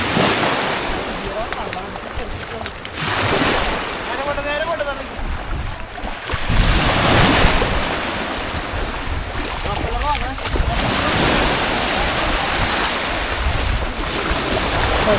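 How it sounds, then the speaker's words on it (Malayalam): Out at sea in a boat, wind buffets the microphone and waves wash and crash around the hull in a continuous roar, while people talk intermittently over the noise. "കടലിൽ പോവാണ് ഞാൻ, കടലിൽ പോകുകയാണ്."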